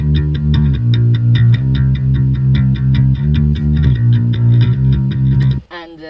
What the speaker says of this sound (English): we decided to go and add an electric bass